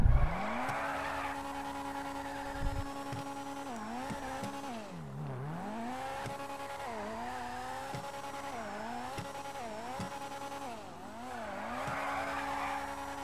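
A video game car drives with a steady engine drone while its tires squeal and skid in long, wavering sweeps that rise and fall as it slides through turns, fairly loud and continuous.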